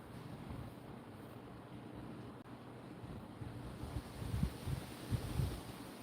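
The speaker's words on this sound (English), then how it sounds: "It's really windy and it might be affecting the service." Strong wind buffeting the microphone outdoors, a continuous roaring rumble with heavier gusts swelling toward the end and no one talking.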